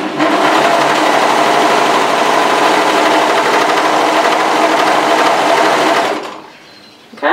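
A Brother 1034D overlocker stitches thin jersey stretch-knit fabric, a loud, steady close-up mechanical whir running unbroken for about six seconds before cutting off abruptly.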